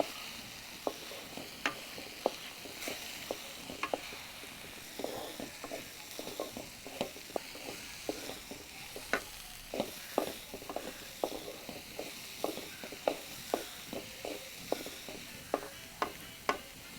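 Grated coconut sautés with tomatoes in a pan for a Kerala tomato thoran, with a soft, low sizzle under a regular series of light scraping stirs, quiet and close.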